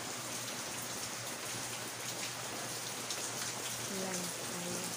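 Steady rain hissing down continuously, with a few faint distant bird calls or voices near the end.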